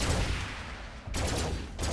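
Gunshots from an alien-fighting gun in the VR shooter Farpoint, a steady rapid burst of shots that cuts out briefly near the middle and resumes, close and fairly loud with no talking.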